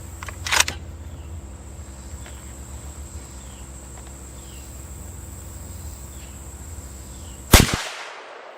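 A 7mm-08 rifle loaded with Hornady ammunition fires two sharp, loud shots several seconds apart outdoors, with a steady chorus of insects droning in the background.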